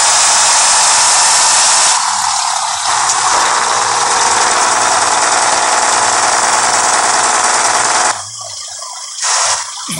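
A truck engine from a truck simulator game drones loudly and steadily with broadband roar, dropping out briefly near the end before resuming.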